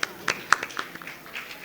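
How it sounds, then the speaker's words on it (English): Scattered audience claps at a school Teacher's Day celebration, welcoming a student speaker: a handful of sharp, separate hand claps at uneven intervals, fairly quiet, with a voice partly heard among them. "Please welcome with a big round of applause."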